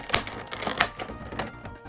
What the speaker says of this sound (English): The clicking of the box going back into place there.